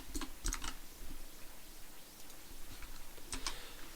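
Quick clicks of typing on a computer keyboard, close and quiet, with a short cluster at the start, sparse taps in the middle and another burst near the end, with no talk.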